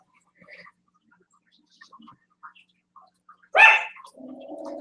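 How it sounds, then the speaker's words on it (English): A small dog lets out one sharp, loud bark close by after near silence, followed by a lower, sustained tone. "Hey, Misty, that's my little barker."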